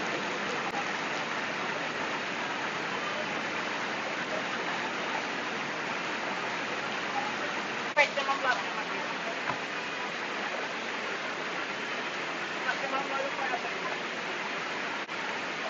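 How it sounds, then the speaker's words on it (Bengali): Heavy monsoon downpour pounds steadily onto a street where water has pooled, a dense unbroken hiss with occasional sharper drips and taps. "মুষলধারে বৃষ্টি পড়ছে।"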